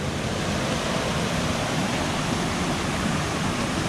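Bagata Falls, a waterfall at a nature park in Dona Remedios Trinidad, roars in a steady, dense broadband rush that stays constant and loud throughout, with no voices over it.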